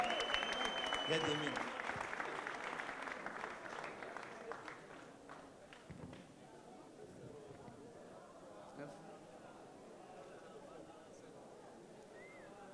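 Wedding guests at a chuppah ceremony applaud: a fairly distant crowd clapping that is strongest at the start and gradually thins out, with a voice talking over it.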